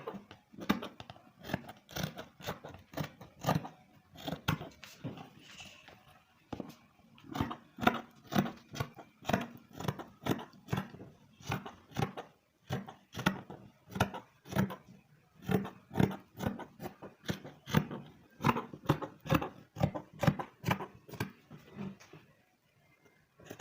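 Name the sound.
scissors cutting fabric for a pencil gown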